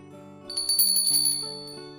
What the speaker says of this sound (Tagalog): Kampanilya ito.